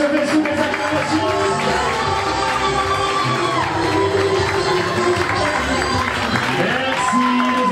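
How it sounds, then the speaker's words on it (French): Wedding guests cheer and applaud at a civil ceremony, a lively mix of shouts, whoops and clapping that stays loud and continuous, with voices calling out across the room. "nous allons accompagner les mariés par des acclamations"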